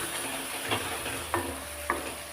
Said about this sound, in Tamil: மீண்டும் ஒரு முறை நல்லா கிளறி விட்டுக்கலாம் ஆயில் அப்படியே மேலே வரட்டும்